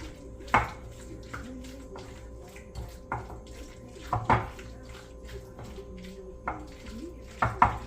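Water is poured and stirred into a bowl of leftover turkey salad, with sharp clinks and scrapes of a utensil against the dish at irregular intervals.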